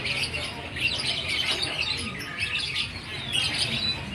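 White-rumped shamas (murai batu) chirp and squawk in a busy bird market setting, a dense, continuous chorus of overlapping calls at moderate distance with a steady background hum.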